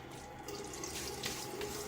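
Tap water runs into a sink before a wet shave, a steady close hiss of flowing water with slight splashing and no voices.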